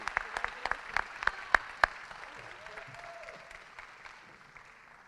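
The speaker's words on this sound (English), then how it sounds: "I want to say, big round of applause." Applause from an audience at a foundation legacy gala, with sharp individual claps standing out at first, then settling into a steady wash of clapping that slowly fades.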